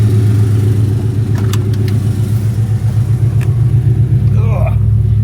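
Car engine of a 1984 car with an aftermarket UPR Pro Street anti-roll bar, a loud, steady low rumble while driving, with voices chatting over it close in the cabin.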